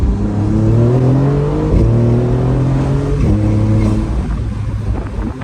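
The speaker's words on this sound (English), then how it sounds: "listen to the turbos pull off" Loud, close Maserati turbocharged engine accelerating hard: a strong, rising engine drone that breaks sharply at two gear shifts before pulling on again, with no talk.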